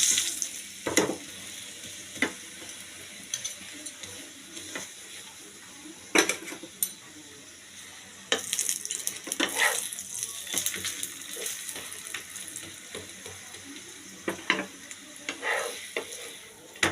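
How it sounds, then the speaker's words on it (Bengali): Palak paratha, a spinach flatbread, shallow-fries in plenty of oil, giving a steady sizzle with scattered scrapes and clinks of a utensil against the pan. No one speaks. "একটু তেল বেশি করে দিয়ে আমি এপিট ওপিট উল্টে দিয়ে ভেজে নেব।"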